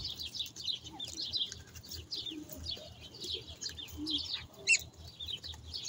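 Old domestic ducks in a yard give faint, quick high chirping calls in scattered bursts, with a soft low murmur beneath and no talking.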